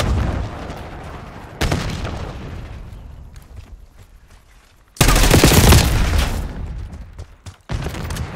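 Frag grenade in Call of Duty Black Ops 6 multiplayer, heard as a few loud, sudden blasts, the strongest a broad roaring explosion that fades over a second or two amid ongoing gunfire, with no speech.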